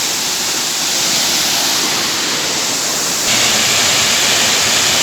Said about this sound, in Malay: Alhamdulillah saya sudah sampai di air terjun Blangkolam untuk yang keempat kalinya